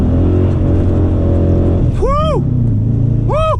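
A Dodge Challenger Hemi engine drones loudly on a night drive, then revs sharply twice, each burst rising and falling in pitch as the gears change up to third.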